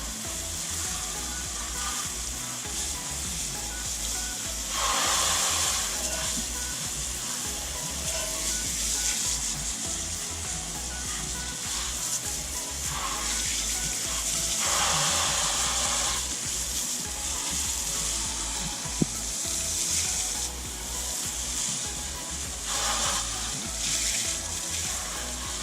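Water spray rinsing a car wheel at close range, a hissing, splashing stream that surges louder in several bursts between softer spraying, with no voices.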